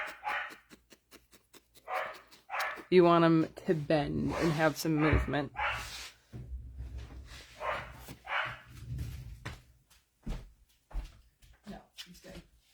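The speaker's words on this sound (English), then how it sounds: "Sorry for the barking dog." A dog barks repeatedly indoors, sharp loud barks in a burst with some whimpering yips, mixed in with someone talking before and after.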